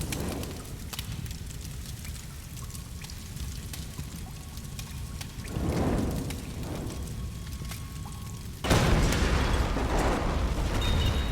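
A low rumbling ambience in Tomb Raider (2013), then a sudden loud explosion at about nine seconds that keeps roaring with crackling debris until the end.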